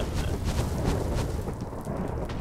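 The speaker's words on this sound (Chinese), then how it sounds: "打雷打雷！" Thunder in the Minecraft sky-creation game, a loud, continuous broadband rumble with crackling bursts that holds steady for the whole stretch, with no talk over it.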